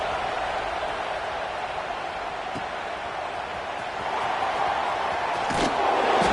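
A college football crowd roars steadily at a Wisconsin vs SC game, a dense, continuous wash of cheering that swells louder toward the end.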